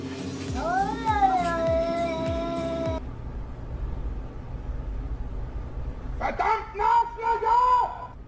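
A cat meows and caterwauls in long, drawn-out, wavering yowls, first one sustained cry, then a pause, then a second rising and falling wail, loud and close with other noise in the background.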